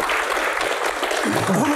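An audience at a Q&A talk on acting claps briefly, under a second of scattered applause overlapped by a speaking voice.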